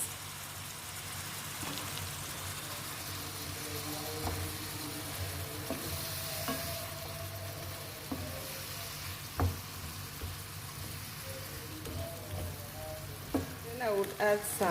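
Green beans sizzling and frying in a pan with chicken breast, a steady close crackle throughout with occasional clinks and stirring scrapes near the end.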